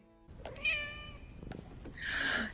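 A cat gives a couple of clear, close meows, a drawn-out cry followed by a short second call, with soft background sounds between them.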